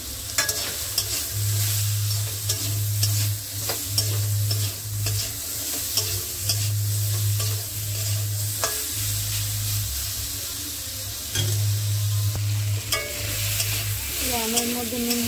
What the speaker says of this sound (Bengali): আমের মধ্যে নুন হলুদ ভালোভাবে মিশিয়ে নিয়েছি